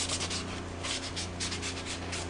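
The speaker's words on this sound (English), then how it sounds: "now I can just continue to sanding the rest of the controller just to get this residue off" An Xbox controller's plastic shell is sanded to remove residue, a close, steady scratchy rubbing that continues without pause.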